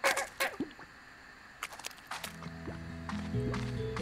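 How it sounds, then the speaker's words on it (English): A chicken in the video game Slime Rancher gives short clucks and squawks amid scattered game sounds, ending over a steady background hum. "What do we do with the chicken?"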